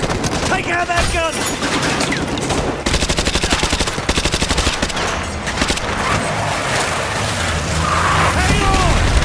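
Rapid machine gun bursts with booming impacts and shouted voices in a Modern Warfare 2 Remastered battle, loud and close, the fire coming in sustained rattling volleys.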